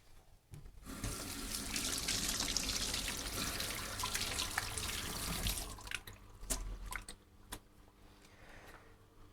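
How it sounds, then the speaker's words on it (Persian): A kitchen tap runs while a hand is rinsed under it during cooking. The water gushes steadily for about five seconds, then shuts off, followed by a few scattered drips and light clinks. "من دستم رو یه آب بزنم"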